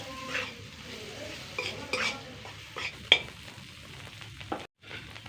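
A spoon stirs chhana (fresh cheese) into raw banana curry frying in a pan, with soft scraping, light sizzling and a few sharp clinks against the metal, then a brief pause.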